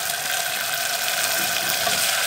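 Tomato added to a pan of fried onions sets off a steady, close hiss of sizzling oil that holds evenly throughout with no voices.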